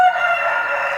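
A man imitates a rooster crowing with his voice, a loud sustained cock-a-doodle-doo call heard up close with no other sound around it.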